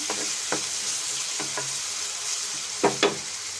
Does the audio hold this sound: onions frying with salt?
yes